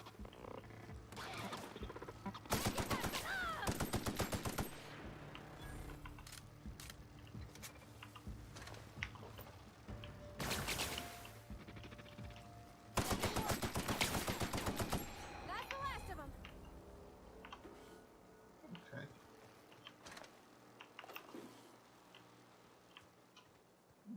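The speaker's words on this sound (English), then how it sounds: "Who the fuck is shooting?" Bursts of gunfire from a firefight in The Outer Worlds, several loud rapid volleys separated by quieter stretches of game sound.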